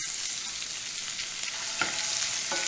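Chopped garlic and ginger sauté in coconut oil on a tawa for chicken, a continuous bright frying hiss with a few light stirring scrapes and no voices.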